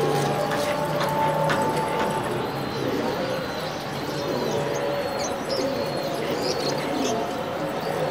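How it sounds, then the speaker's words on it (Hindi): Pigeons on a rooftop loft coo steadily over a dense, continuous background of wing and bird noise, with faint talk. "ये इनके देखें कबूतर गूंज रहे हैं"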